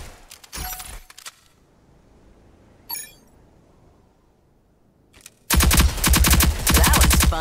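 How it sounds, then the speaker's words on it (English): Gunfire in Rogue Company: a short rattle of shots, a lone crack mid-way, then a loud sustained rapid automatic burst from a turret or rifle at close range, with quiet gaps between and no talk. "Hide from the remaining turrets and then return fire."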